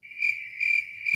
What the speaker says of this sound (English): Cue the crickets, JP.